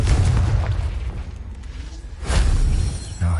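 Fiery Confringo spell explosions in the Hogwarts Legacy video game, two loud booming blasts with a heavy low rumble, the second swelling near the end.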